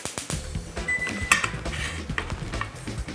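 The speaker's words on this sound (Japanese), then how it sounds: "さあそしてここでまたフライパンをきれいにし 熱しておきます。" Frying pan being wiped clean, with close clinks and scrapes of metal utensils against the pan and a bright ringing tap, irregular and fairly loud, no talking.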